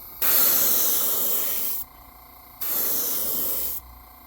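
An airbrush sprays paint onto the fin of a 7-inch FWL Shad Gasm fishing lure in two steady hissing bursts, each about one and a half seconds long, close and fairly loud, with a short quiet pause between them.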